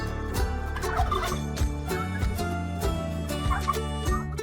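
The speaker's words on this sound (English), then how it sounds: "A turkey is a big bird." Several turkeys gobble in overlapping bursts, a steady chorus of rattling calls close by with no voices over it.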